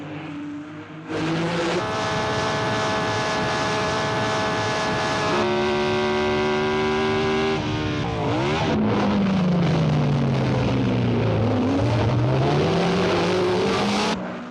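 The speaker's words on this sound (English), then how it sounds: "it's Sarti's red Ferrari ahead of Stoddard's green BRM number 12" Formula 1 race cars roaring past at the Monaco Grand Prix, with engine notes from a red Ferrari and a green BRM number 12, loud and sustained, with sweeping pitch shifts as cars pass, downshift and accelerate.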